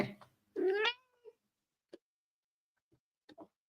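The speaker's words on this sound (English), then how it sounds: "Come here, good kitty." A pet cat meows loudly and close once, a drawn-out call, followed by a few faint short chirps and soft sounds scattered across a quiet room.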